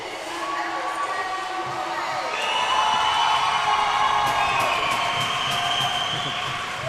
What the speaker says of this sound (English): Gets a big cheer from the crowd.